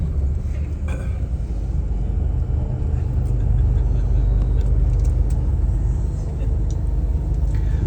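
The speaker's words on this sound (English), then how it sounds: "right now with the shuttle bus I will show them to you quickly" Shuttle bus driving near an ancient city site, a loud steady low engine and road rumble from inside the vehicle, with small rattles and clinks over it and a voice talking intermittently.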